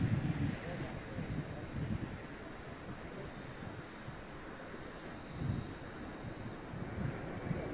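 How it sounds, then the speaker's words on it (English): A steady side wind buffets the microphone at Heathrow Airport, giving a continuous low rumbling roar with periodic gusty swells and no distinct pauses. "A little bit of a side wind."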